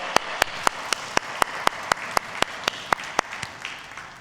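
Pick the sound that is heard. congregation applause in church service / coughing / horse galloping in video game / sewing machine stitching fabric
congregation applause in church service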